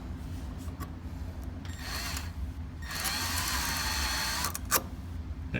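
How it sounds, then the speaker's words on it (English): A power drill bores a pilot hole through a Milescraft Hingemate jig for a bi-fold door conversion, whirring in two close bursts with a brief pause between, the second longer and steadier, ending with a short click. "So as I push down, the drill bit's going to go in."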